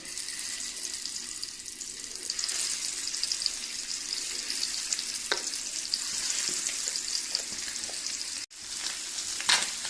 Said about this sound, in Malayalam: നാല് മുട്ടയിൽ ഞാൻ മസാല പിടിപ്പിച്ച് വെച്ചു ഇനി നമുക്കിത് ഫ്രൈ ചെയ്തെടുക്കണം